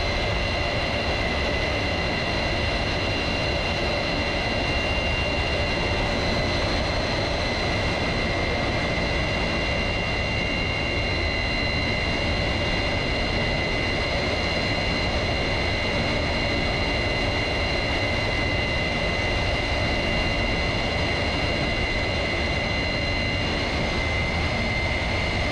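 An F-100F Super Sabre jet in flight returns toward Ellington Field, heard as a loud, continuous engine roar with a steady high whine that never lets up.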